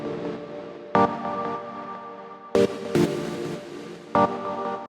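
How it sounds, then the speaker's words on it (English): Sustained, warm dub chord stabs from a Serum synth preset in groovy trance style, ringing out with a soft tail, punctuated by a few sharp percussive hits, no voices. "the first dub chord synth sounds like this"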